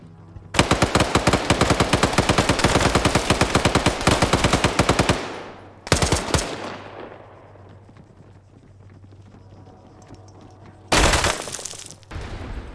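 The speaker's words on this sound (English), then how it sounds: "Plenty of grenades being thrown in here." Rapid automatic gunfire in a tense multiplayer shooter match pours out in a loud sustained burst, breaks off, then returns with a single heavy blast and a final short loud volley; grenade explosions are not distinctly marked.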